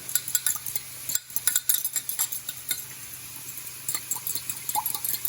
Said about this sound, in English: I'm just going to mix in the stock cube in this, the beef stock cube